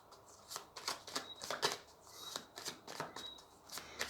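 A deck of cards is shuffled for a tarot-style draw: repeated quick riffling bursts, soft and close, with no talking.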